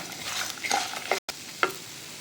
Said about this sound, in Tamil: நல்லா வறுத்துச்சு எல்லாத்தையும் வறுத்தாச்சு